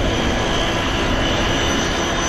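Loud, steady roar of an airplane's engines during landing, continuous and close with a broad jet-like rumble and no pauses.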